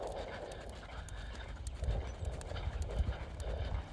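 Horse loping on a training ride, a rhythmic three-beat clip-clop of hooves repeating steadily and fairly close, with faint breathing and no speech.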